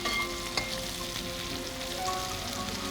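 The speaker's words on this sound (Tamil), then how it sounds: "நிறைய வெங்காயம் போட்டு நல்லா தாளிப்போம்." Onions sauté in oil for anchovy fish curry, a steady close sizzle and crackle of frying that runs unbroken through the clip with faint stirring, no voices.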